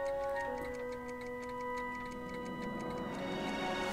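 A cat clock ticks steadily in the Back to the Future video game, an even run of quiet ticks over a soft sustained musical tone, with no voices.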